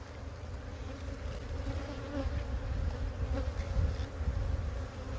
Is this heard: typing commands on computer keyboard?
no